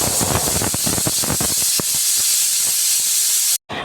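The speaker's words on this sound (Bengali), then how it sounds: "এখন আমি প্রেসার কুকারের ঢাকনাটা বন্ধ করে এটাকে আমি 4টা সিটি দিয়ে নিব" Pressure cooker whistling on the stove while lentils boil for chotpoti, a loud, continuous hissing rush of steam with sputtering bursts that cuts off abruptly near the end; no talk.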